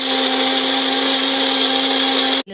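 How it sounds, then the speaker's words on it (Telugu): An electric mixer grinder whirring loudly and steadily as it grinds washed mint leaves and cut green chillies for mint rice, running without a break before cutting off abruptly at the end. "పుదీనా కడిగేసుకునేసి పచ్చిమిర్చి కూడా కట్ చేసుకునేసి ఇలా వేసుకునేసి దీన్ని అయితే మిక్సీ పట్టేసుకుంటున్నా"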